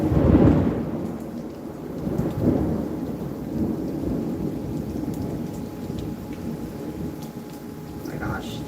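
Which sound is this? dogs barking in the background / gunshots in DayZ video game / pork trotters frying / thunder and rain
thunder and rain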